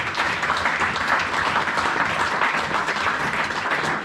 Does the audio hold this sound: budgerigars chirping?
no